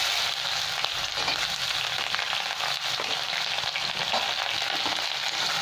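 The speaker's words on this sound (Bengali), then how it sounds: "এখানে আমি পেঁয়াজ তুলে দিচ্ছি" Chopped onion fries in hot oil with cumin for a bottle gourd kofta curry, giving a dense, continuous close sizzle with scattered crackles and light stirring, loud and steady with no voices.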